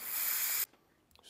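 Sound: spraying carburetor cleaner

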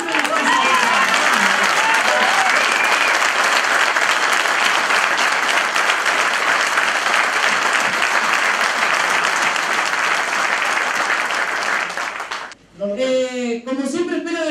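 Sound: audience applause at workers' meeting

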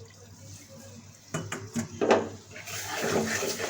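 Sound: milk poured into besan roasting in a pan

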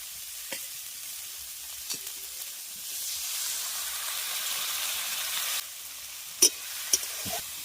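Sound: coconut and spices frying in a pan

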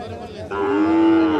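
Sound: cattle mooing at a cattle market

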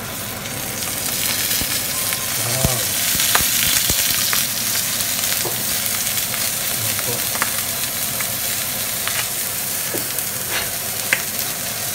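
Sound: milkfish (bangus) sizzling with olive oil while grilling

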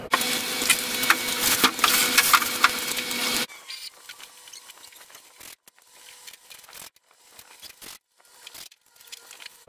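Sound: CNC machine cutting plywood

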